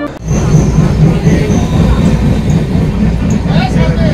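Inside a crowded general-class passenger coach of an Indian Railways train bound for Puri, a loud, continuous rolling rumble of wheels and carriage vibration fills about four seconds, with faint clatter and squeal over the low drone.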